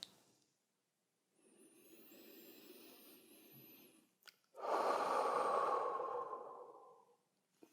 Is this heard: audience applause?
no